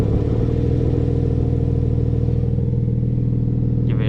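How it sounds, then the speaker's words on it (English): A 992 Porsche 911 Turbo S with an Akrapovic exhaust idles in sport mode with its valves open, giving a steady, close, deep rumble throughout. "you can switch it from normal mode into sport, and you're gonna hear the valves open."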